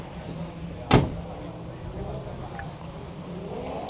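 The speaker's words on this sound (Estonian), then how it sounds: "Teed lahti, ja siis uks käib niimoodi." A car door shuts with a single sharp thump, loud and close, followed by faint clicks in a quiet outdoor setting.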